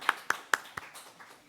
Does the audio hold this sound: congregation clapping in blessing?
yes